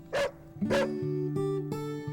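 Two dogs on a small dairy farm give two loud, close barks followed by a sustained whining whimper, with no talk.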